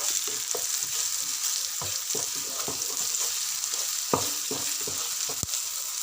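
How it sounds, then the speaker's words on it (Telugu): Onions fried until reddish hiss steadily in a pan for chicken curry as turmeric is stirred in, with repeated scraping strokes and spoon knocks against the pan, close and clear with no talking. "ఆనియన్స్ ఇలా రెడ్డిగా ఫ్రై అయ్యాక మరి కొంచెం పసుపు వేసుకోవాలి"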